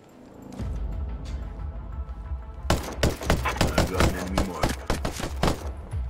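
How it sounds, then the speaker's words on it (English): Rapid bursts of gunfire crackle in quick succession over a steady background rumble, loud and sharp, in a firefight in the game Ghost Recon Breakpoint. "I'm hearing enemy fire. I hear gunfire."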